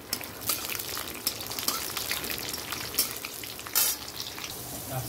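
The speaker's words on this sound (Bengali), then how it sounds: "আর এদিকে পাঁপড় ভাজা।" Papad lentil wafers fry in hot oil with a continuous crackling sizzle, punctuated by sharper bursts of spitting and bubbling as each wafer puffs up, close and without talk.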